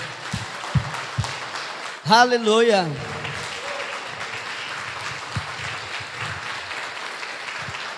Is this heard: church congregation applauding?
yes